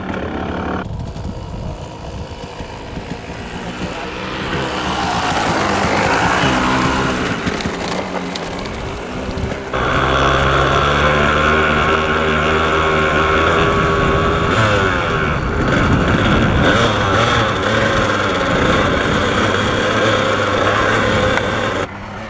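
Kawasaki KDX 220 dirt bike on its first ride, a loud, buzzing two-stroke engine revving up and down through gears, close and continuous with wind noise, rising to sustained high-pitched runs.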